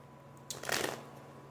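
Tarot-style cards shuffled for a three-card spread, a brief faint riffle of papery flutter lasting under a second, close and quiet with no talk.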